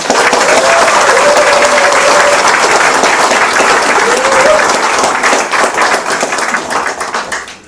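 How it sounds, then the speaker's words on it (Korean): Loud crowd applause at a political rally where a presidential primary candidate presents pledges for North Jeolla province, with a whistle-like tone rising briefly above the dense clapping, which tapers off toward the end. "박수 드립니다"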